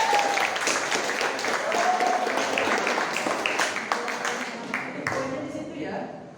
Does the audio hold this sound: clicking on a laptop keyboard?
no